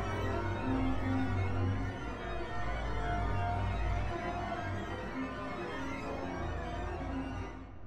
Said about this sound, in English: behind the bridge chaotic sounds where you bow beyond the bridge of the